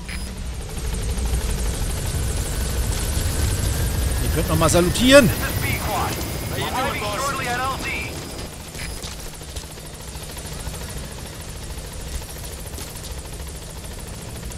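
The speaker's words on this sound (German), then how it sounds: "Wir holen uns erstmal den Hubschrauber." A helicopter in Metal Gear Solid V rumbles steadily with a whining tone and swells briefly as it passes near, while someone talks over it.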